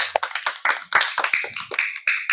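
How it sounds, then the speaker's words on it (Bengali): Several children clap their hands together at a family gathering where money gifts are being shared, giving a quick, uneven run of close, loud claps with a few bright chattering voices mixed in. "হাততালি সবার হাততালি"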